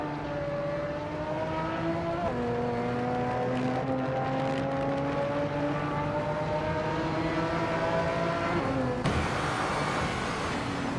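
Race car engines in a racing video game drone steadily with rising and falling harmonic whines as cars jostle, the pitch climbing and dropping with each gear change and a sharp shift near the end.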